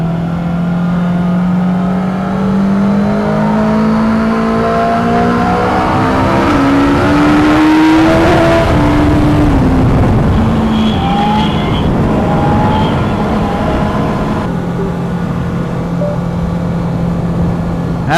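A 2016 BMW S1000RR motorcycle engine revs hard while riding. It climbs through the gears in a rising, loud howl, eases off with a falling pitch, then settles into a steady drone close up.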